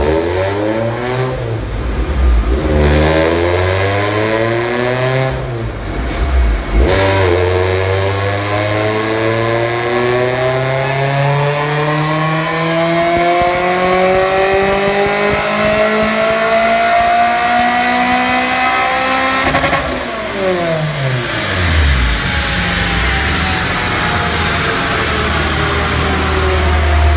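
A supercharged Honda D16Y8 with a race cam, boosted to 9 psi and fitted with an air filter, screams through repeated full-throttle dyno pulls: loud, close revving sweeps up in pitch, short drops between runs, then one long climbing pull.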